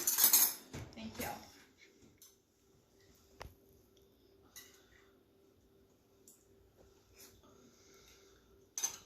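Knife and cutlery clink against a plate while salmon is eaten, a burst of clatter at the start, then sparse light ticks and taps at moderate distance over a quiet room, with another clatter at the end.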